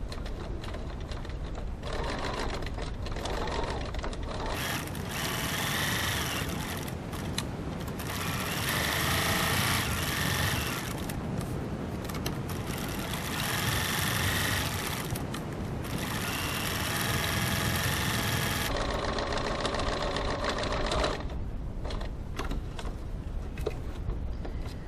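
A sewing machine stitches a seam on a boot-shaped gift bag with a lengthened stitch, making a rapid close mechanical chatter in long runs separated by short pauses.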